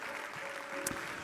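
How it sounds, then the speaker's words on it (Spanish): A church congregation claps in a soft, steady patter of many hands, faint and distant, with a brief louder sharp burst near the end. "Vamos, aplauda con fuerza, aplauda con fuerza,"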